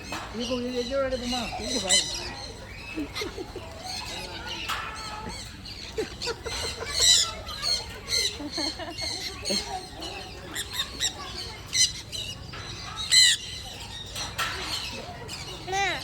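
Birds at the Trichy bird park give harsh, repeated squawks and chirps at close range, in bursts over a steady background, while people talk nearby.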